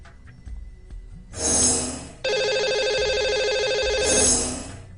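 On a live show, a telephone rings out while a lucky caller is dialed: a brief swell, then a loud, steady warbling electronic ring that swells again at the end.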